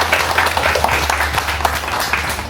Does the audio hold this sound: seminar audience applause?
yes